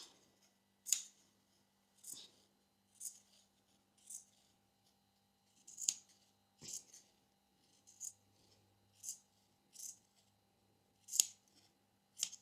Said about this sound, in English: You want to get your scissors and cut along